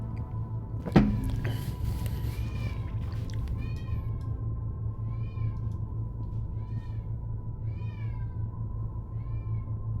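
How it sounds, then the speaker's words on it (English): A cat meows repeatedly while playing with her toy, about half a dozen short, clear calls spaced a second or so apart over a steady low hum, with a single thump near the start. "that meow was the sound of the cat with her toy"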